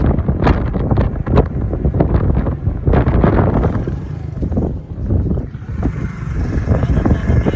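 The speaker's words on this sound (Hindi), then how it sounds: "हवा बहुत तेज़ लग रही है" Strong wind buffets the microphone outdoors at a village home, loud rumbling gusts that surge and ease throughout, with no clear speech.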